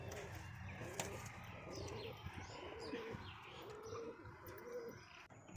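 A male Madras high flyer pigeon coos in a low, repeated rhythm at close range, with faint chirps from other birds in a coop around it.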